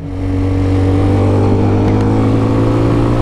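A Chinese replica of a Honda supermoto, an 11-horsepower bike, runs with a loud, steady engine drone that holds a constant pitch, close by and alone.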